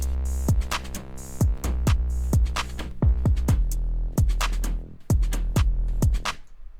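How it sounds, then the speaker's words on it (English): A produced drum beat with two layered 808s, snare and hi-hats loops steadily, deep booming 808 slides under crisp snare hits and ticking hats, loud and upfront with a brief drop near the end. "So all of the drums together sounds like this."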